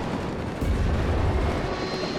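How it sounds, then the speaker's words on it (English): Tanks blow up in the real-time strategy game WARNO, a heavy rumbling blast that swells partway through amid ongoing battle noise, loud and dense with no voices. "They're actually both going to explode."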